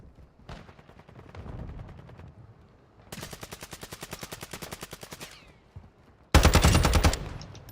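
Call of Duty gunfire rattles in rapid automatic bursts: a softer volley, a longer steady stream of shots, then a sharp, loud final burst after a short pause.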